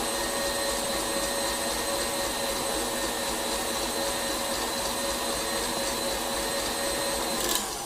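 A stand mixer whips macaron mixture with a steady, unbroken electric motor whir that holds an even pitch and loudness throughout, close by and with no talking.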